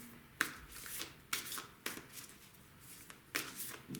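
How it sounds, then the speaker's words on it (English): A deck of oracle cards being shuffled by hand, with soft repeated riffling bursts at an uneven rhythm, close and fairly quiet, with no talking. "I will pull some oracle cards for you."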